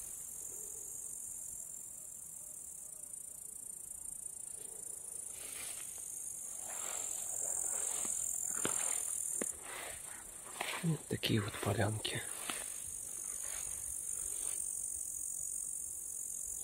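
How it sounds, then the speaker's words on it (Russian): Grasshoppers in a forest meadow give a constant, thin, high chirring throughout, with someone talking quietly over it and rustling nearby. "Кузнечики хоть начали стрекотать."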